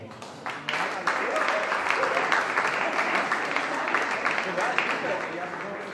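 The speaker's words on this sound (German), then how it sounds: "Vielen Dank, der Applaus ist für euch." Audience at the Hessian Rock & Pop Prize clapping in a hall, starting from a few scattered claps and building into steady, full applause, with some voices mixed in.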